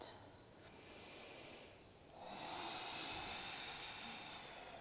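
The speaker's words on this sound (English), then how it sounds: "And exhale to the side." A slow, soft exhale through the nose during a side-bending yoga stretch, a faint airy rush that swells and holds steadily for a couple of seconds, close and quiet with no talking.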